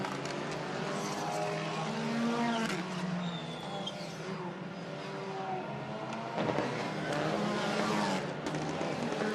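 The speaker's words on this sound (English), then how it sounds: "Final car moving away from the grid." WTCR touring race cars pull away from the starting grid at the Hungaroring, engines droning steadily and fading into the distance amid ambient circuit noise.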